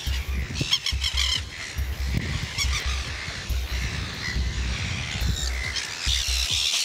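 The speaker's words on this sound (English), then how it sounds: "Oh, my God, look at these birds." A dense flock of birds calls at a rookery on Cockatoo Island, loud overlapping honks and squawks that carry on without a break.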